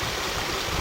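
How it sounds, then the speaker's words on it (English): Moorland stream running steadily on the way from Mam Tor to Kinder Downfall, a brief, even rush of flowing water with no voices. "And a little bit more stream, because it looks nice."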